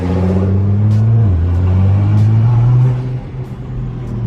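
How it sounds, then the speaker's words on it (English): A Nissan GT-R engine rumbles loudly and close by, its low drone holding steady and climbing slightly in pitch before easing off near the end, with no talk over it. "The noises this car makes is just crazy"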